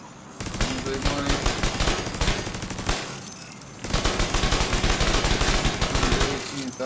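Rapid automatic fire from an assault turret on a striker drone in a video game, two long loud bursts of dense rattling shots separated by a brief pause.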